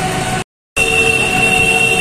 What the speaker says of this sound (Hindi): ऊपर मेट्रो चल रही है।